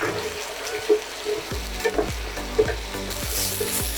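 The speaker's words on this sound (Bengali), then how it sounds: "পেঁয়াজটাকে দিয়ে খুব ভালো করে মিশিয়ে দিন আর 3-4 মিনিট স্লো আছে পেঁয়াজটাকে কুক করুন" Ground onion paste frying in a pan for a Bengali katla fish kalia, sizzling steadily while a utensil stirs it in repeated scraping strokes, close and fairly loud with no talk.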